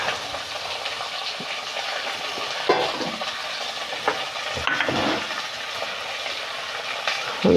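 Ginger, shallots, onion, tomato and green chili fry in a pan, making a steady soft sizzle with occasional stirring scrapes and clatters, and nobody speaks.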